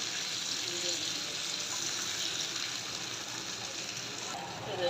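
Small shrimp and tomatoes fry in hot oil in a pan, giving a soft, steady sizzling hiss that continues evenly throughout at moderate loudness.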